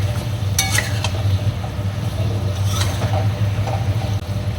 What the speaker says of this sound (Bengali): এরপরে ভেজে রাখা পটলগুলো দিয়ে দিলাম। একটু মশলার সাথে মাখিয়ে নিই, কষিয়ে নিই।